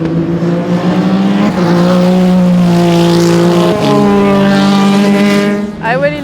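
Le Mans-winning endurance race car at a Bahrain rookie test, its engine loud and close with strong, steady tones that shift pitch sharply at two gear changes before the car fades past near the end.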